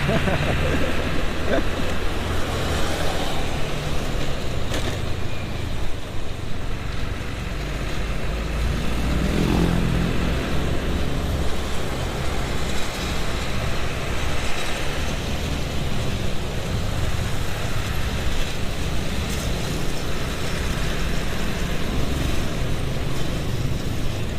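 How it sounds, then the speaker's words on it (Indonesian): Large container trucks rolling past on a road heading into the northern route, a continuous heavy rumble of traffic close by, with a person talking over it. "Mobil-mobil kontainer sini gede-gede"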